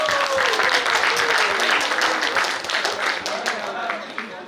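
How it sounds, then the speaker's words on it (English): A crowd applauds at an awards event in Lonavala, sustained dense clapping that stays loud and then gradually thins toward the end, with voices mixed in. "A huge round of applause."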